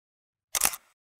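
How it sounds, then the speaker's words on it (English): A single SLR camera shutter release fires with the button pressed fully, giving one crisp mechanical click-and-clatter lasting about a quarter second in a quiet room, then a faint small tick follows. "I can push the shutter button down all the way"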